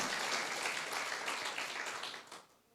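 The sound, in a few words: congregation applause in church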